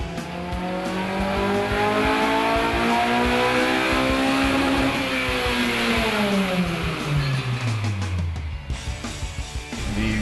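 A 2008 Honda Civic Si with a Skunk2 exhaust is run on a chassis dynamometer, the engine rising through a long sustained full-throttle rev before dropping off, loud and close.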